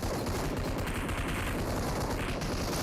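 Sustained gunfire in BGMI (PUBG Mobile) played on a Poco F1 in squad mode, dense rapid automatic shots packed into a loud, continuous barrage throughout.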